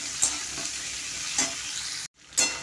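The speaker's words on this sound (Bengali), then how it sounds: "এই আলু দিয়ে দিচ্ছি, আলু দিয়ে ভাজছি এখন" Potatoes fry in a pan for a crab curry, with a steady close sizzle and a few sharp scraping stirs, the sound briefly cutting out near the end.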